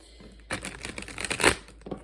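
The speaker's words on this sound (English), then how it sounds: "They're rather stiff since they're brand new, so bear with me as I shuffle." Stiff brand-new cards being shuffled by hand, a rapid run of crisp riffling clicks and flutters close up, with no talk.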